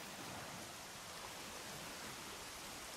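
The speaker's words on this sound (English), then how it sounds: "Well, no, it's raining." Steady rain falls in a video game during an ice-boating stretch, a dense even hiss of downpour that stays constant and fairly loud throughout, with no voices over it.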